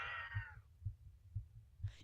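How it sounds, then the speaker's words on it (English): Heartbeat in the Everlasting Summer video game, a low throbbing double thump repeating roughly every half second, steady and muffled, with a faint tonal drone fading early on. "I just realized you can hear the heartbeat."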